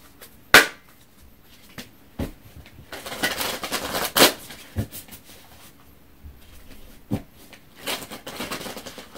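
A goddess guidance oracle card deck handled and shuffled by hand, giving scattered soft riffles, taps and card slaps spread irregularly across a quiet room, with a couple of sharper snaps.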